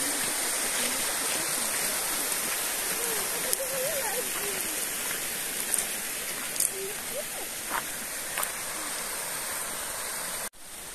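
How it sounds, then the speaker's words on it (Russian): A river flows below a cliffside path on a walk through a Pshada forest, heard as a steady broadband wash of water. A voice speaks faintly over it, and light taps and knocks sound here and there. "А внизу река."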